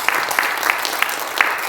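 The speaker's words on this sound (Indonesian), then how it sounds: "Beri tepuk tangan buat Tuhan kita Yesus." Church congregation at a Sunday service at GRJ Bethany applauding, dense steady clapping with a few sharper individual claps standing out at regular intervals, moderately loud and close.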